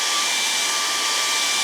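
A hair dryer blows hot air onto a hiking boot, a loud, steady, close whooshing hiss with a faint motor whine, unbroken and without any talk.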